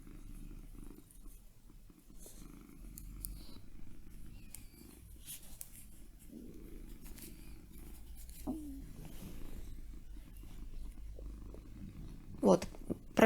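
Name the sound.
cat purring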